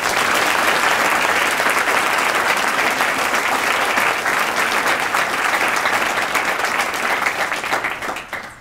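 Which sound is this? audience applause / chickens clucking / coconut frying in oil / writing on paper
audience applause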